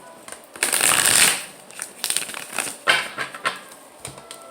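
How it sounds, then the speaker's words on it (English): Tarot cards being shuffled by hand, a quick riffling burst that builds and then breaks into several shorter flicking bursts, close and clear, with no talking. "One more shuffle."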